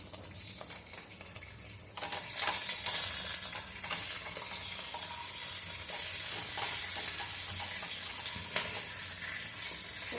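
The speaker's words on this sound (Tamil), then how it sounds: "க்ளீன் பண்ணி வச்சுருக்க கருவேப்பிலையை அது கூடவே முந்திரியும் போட்டு லைட்டாக ஃப்ரை பண்ணி எடுத்துக்கலாம்." Curry leaves and cashews frying lightly in a pan for pongal give a soft, steady sizzle with faint stirring scrapes, growing slightly louder after a couple of seconds, no speech.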